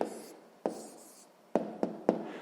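A pen writing down the answer to a sixth-grade maths exercise: quiet scratching broken by several sharp taps and strokes, alone, with no talk.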